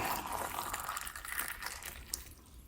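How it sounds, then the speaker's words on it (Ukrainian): Boiling water poured from a kettle into glass jars packed with tomatoes for winter preserving; a continuous splashing, gurgling fill close by, steady throughout with a small clink near the end, no talking. "Заливаємо кип'ятком"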